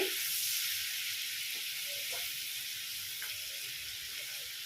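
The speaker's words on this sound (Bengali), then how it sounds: "অল্প ভেজে নিচ্ছি টমেটোটা মশলার সঙ্গে" Tomato frying with spices in a pan on low heat, an even hissing sizzle that holds steady and fades slightly, with faint clinks beneath.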